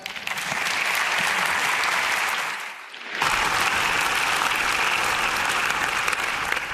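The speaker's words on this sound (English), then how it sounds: "Let's please give a warm applause to Johannes Dunker." An indoor audience at an award event claps warmly for a screenwriter, with a steady wash of dense applause that briefly dips before swelling again and holding strong to the end.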